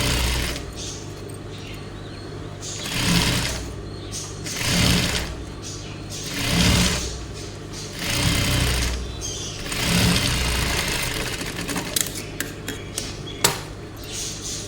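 Sewing machine stitching fabric by hand-measured placement, heard as several separate bursts of whirring motor noise spaced a couple of seconds apart, with light clinks toward the end.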